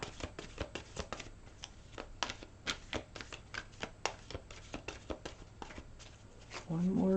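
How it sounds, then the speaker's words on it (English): Law of Attraction oracle cards shuffled by hand in a long run of quick, crisp riffling flicks and slaps, close and fairly quiet, with a voice starting up at the very end. "One more shuffle for Scorpios."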